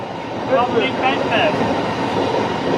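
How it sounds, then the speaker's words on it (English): A 12-car train passes along platform 1 at Kentish Town station, a steady rolling rumble with faint wheel squeal close by, while people talk over it. "Andrew just pointed out there's a train that's passing by on platform 1"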